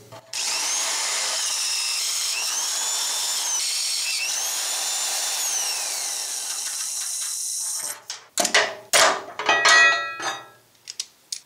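A 7/16-inch bit drilling a fabricated steel mount plate for a 1955–59 Chevy/GMC Napco 4x4 transfer case, a loud steady whine for about eight seconds, followed by rough bursts of scraping and handling noise.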